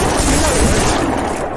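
Dense, continuous gunfire fills the Left 4 Dead 2 zombie shooter scene, a loud and unbroken barrage of overlapping shots with no clear gaps.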